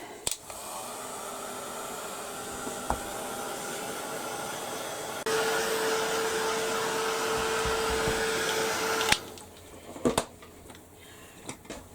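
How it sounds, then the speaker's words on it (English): A heat gun blows steadily while drying paint on a calico bag, a continuous airy roar that grows louder partway through, then cuts off, leaving a few light handling clicks and knocks. "I'm going to give it a blast with the heat gun and get it dried"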